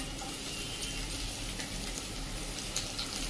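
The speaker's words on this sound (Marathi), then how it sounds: "कांदा परतत आलाय" Half a chopped onion sautéing in oil for a drumstick dal, with a green chilli in the pan, gives a steady, close crackling sizzle that runs evenly throughout with no voices.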